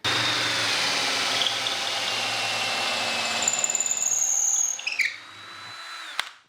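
A power drill with a 3/8 inch bit bores a hole for a lamp, a loud, steady close whine that strains and sputters near the end before winding down with a final clunk.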